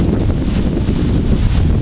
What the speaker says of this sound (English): It's crazy windy out.